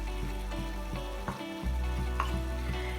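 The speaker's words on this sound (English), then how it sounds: "Take 1 cup of water, add into a pan, and bring it nice boiling." A pan of water with crushed coriander stems simmers on the stove, giving a low steady bubbling hiss that briefly drops out and then resumes more strongly; no voices.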